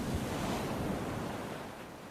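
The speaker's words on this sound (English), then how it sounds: "I made my way down to the water the next morning to witness the power of the waves" Ocean waves crashing on the shore beside a coastal hiking trail in Portugal, a loud continuous roaring wash of surf with wind noise, slowly easing off and with no voices.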